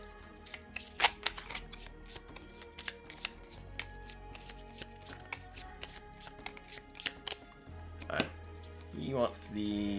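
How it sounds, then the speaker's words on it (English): A deck of cards being shuffled during a tabletop card game, with repeated crisp riffles and snaps, fairly close and quiet, followed by softer handling of the cards. "I'm just going to shuffle his deck a bit."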